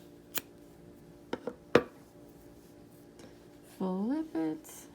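Scissors snip crochet yarn after a double knot on a granny-square Christmas tree ornament, a few sharp close clicks and cuts in quick succession, followed by brief talking.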